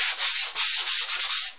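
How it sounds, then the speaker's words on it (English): A small sanding block scrapes across gritty gesso-coated paper in quick back-and-forth strokes, harsh and close, about six rasping passes with brief gaps between them. "The gesso is gritty, so I just used a little sanding block,"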